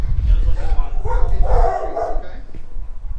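A shelter dog at a county animal services facility barks and whimpers up close in a few short bursts, with background noise throughout.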